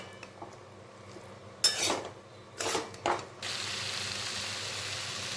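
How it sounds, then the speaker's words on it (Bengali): Boiled chickpeas and potato get mixed with spices in a pan, heard as three distinct spoon scrapes and clatters against the pan over a quiet background, followed by a steady soft sizzle. "আর মশলার মধ্যে চানাগুলোকে আলু সহ খুব ভালো মতন আরেকবার মিশিয়ে নেব।"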